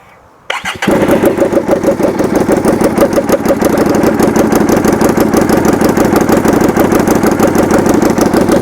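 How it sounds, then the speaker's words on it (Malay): A custom 250cc V-twin motorcycle engine fires up after a brief pause and settles into a loud, lumpy idle with a steady, uneven thumping pulse, close by. "dengan enjin V-twin ni guys, dia menghasilkan bunyi yang agak menarik"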